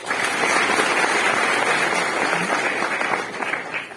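An audience at a motivational talk gives a sustained round of applause for the event's anchors, a dense, even wash of clapping from a crowd that holds steady for several seconds.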